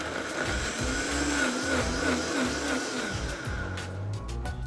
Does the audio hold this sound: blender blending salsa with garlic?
yes